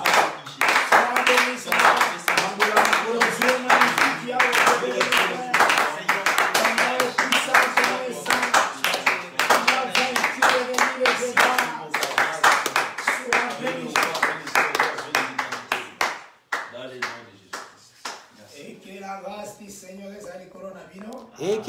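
Congregation hands clapping in a steady, brisk rhythm during a church intercession service acclaiming the Lord. Voices sing and call along throughout, and the clapping fades out near the end as speech takes over.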